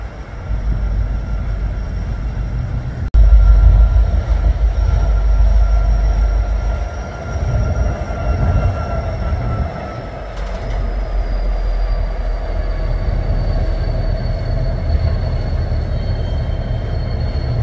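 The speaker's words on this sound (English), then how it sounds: "Both of the trains are still side by side." Two freight trains run side by side, one a huge double-stack train, in a steady loud rumble of wheels and cars with a sustained high wheel squeal, close by and without talk.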